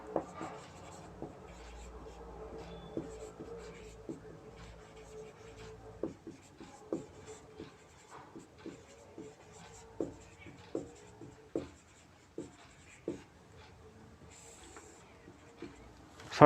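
Hand writing scratches across a surface in short, uneven strokes with distinct louder ticks every second or so, close and clear over a quiet background, as conditions for wave interference are written out in a physics lesson.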